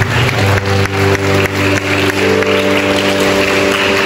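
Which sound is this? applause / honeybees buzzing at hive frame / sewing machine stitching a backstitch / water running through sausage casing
applause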